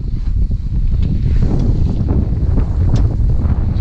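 Steady, loud wind rushes over a sailboat under sail on the open sea north of the Virgin Islands toward Bermuda, with a continuous blustery roar and faint hull and water noise.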